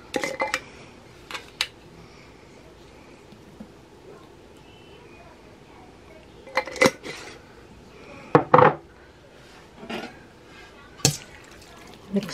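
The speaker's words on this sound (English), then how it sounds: "Easy way to make sure your spaghetti's mixed up." A pot of spaghetti is stirred and tossed with Parmesan: scattered metallic clanks and scrapes of a utensil against the pot, separated by quieter pauses, with a voice talking at times.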